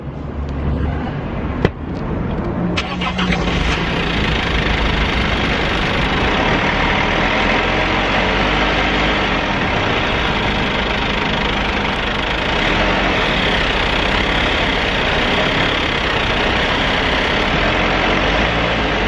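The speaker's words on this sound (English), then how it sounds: "It's only when it's ticking over, it's only when the engine's warm" A van engine idles steadily and loudly up close when warm, with a faint rapid timing chain ticking running through the constant rumble.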